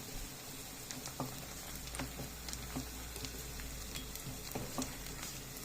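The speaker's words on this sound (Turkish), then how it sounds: "Bunu böyle bir kavuracağım." Steady sizzling of onion and garlic sautéing in a pan, with occasional soft clicks and stirring scrapes, close and continuous with no voices.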